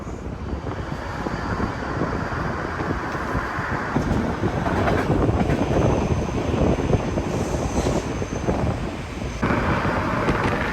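White Pass Railroad train running through forest near Skagway, Alaska, giving a steady, loud rolling rumble with wind noise that swells slightly midway and continues unbroken throughout.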